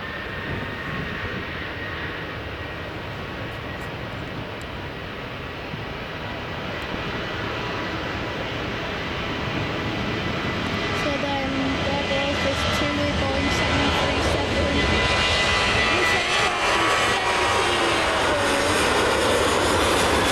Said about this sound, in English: Here goes this Ryanair Boeing